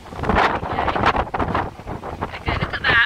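Gusty wind from Storm Ciara buffets the microphone in loud, rumbling bursts outdoors, with a faint voice briefly underneath.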